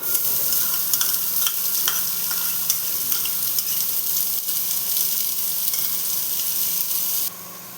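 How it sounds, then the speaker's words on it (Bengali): Chopped onion, a large one, frying in hot refined oil in a wok for aloo paratha, giving a steady loud sizzle with light scraping stirs throughout, the level dropping slightly near the end. "তেলটা গরম হয়ে গেছে, এর মধ্যে একটা বড় মাপের কুচনো পেঁয়াজ দিয়ে দেবো।"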